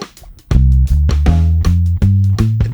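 A deep bass guitar plays a short, punchy groove of plucked notes, loud and close, with no talking.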